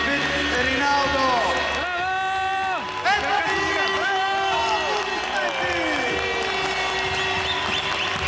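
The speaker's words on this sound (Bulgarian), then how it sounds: "аплодисменти за Давид Риналдо" A crowd claps and cheers loudly, with shouting and sung, wavering voices rising over the applause throughout, and a brief dip in the middle.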